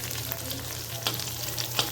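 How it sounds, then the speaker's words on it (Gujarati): Small unripe gunda glueberries fry in hot oil for a pickle, a steady close sizzle with occasional sharper pops and crackles rising above the continuous bubbling. "પણ આને પહેલાં વ્યવસ્થિત તળવા દેવાના છે"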